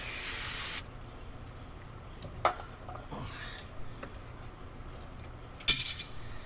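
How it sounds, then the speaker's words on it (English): A can of 3M brake cleaner sprays a loud hissing burst during an oil and fuel filter change on a 2017 Duramax, followed by quiet clinks and a second short spurt. "Now, let's get our brake clean."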